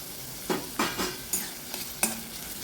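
A pan of frying garlic stirred in five or six distinct scraping strokes over a quiet, steady sizzle, close by with no voices.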